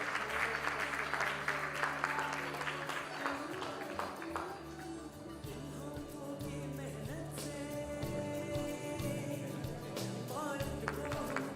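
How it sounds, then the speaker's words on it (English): Sustained applause from a conference audience at an empowerment conclave, steady clapping from many hands filling the room throughout over a low background hum. "let's give them a big round of applause"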